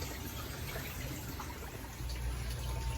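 A koi pond waterfall keeps running in freezing weather, a steady trickling splash of water that grows slightly fuller and louder toward the end.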